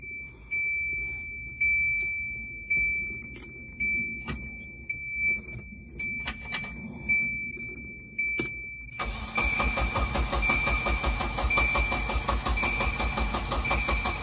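Cranking engine of a Volvo 245 turbo project car: a steady, loud, continuous whirring drone that holds for about five seconds, following a stretch of scattered small clicks and clunks with a faint steady whine behind them.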